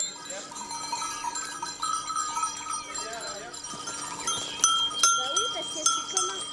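Goats bleat now and then amid the clanking of cowbells outdoors in the Alps in early summer, with a voice speaking softly in the background.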